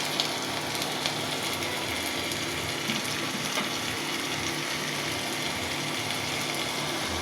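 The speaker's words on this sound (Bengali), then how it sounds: "আমার মাছটা ভাজা হয়ে গেল" Pangas fish fries in a pan with spices, giving a steady, even sizzle and crackle that runs throughout with no talk over it.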